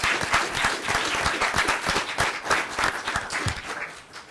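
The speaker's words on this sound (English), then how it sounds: "Can we just have a round of applause for these guys?" Audience at an entrepreneurship pitch competition applauding steadily for the full stretch, a dense, even wash of many hands clapping at close range with no talk over it.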